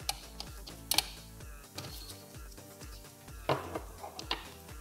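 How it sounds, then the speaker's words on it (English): A 12 mm wrench working on the air duct of a BMW air suspension compressor, giving a few faint metallic clicks and small ratcheting taps, spaced irregularly over quiet background noise. "With a 12 millimeter wrench I will remove this air duct."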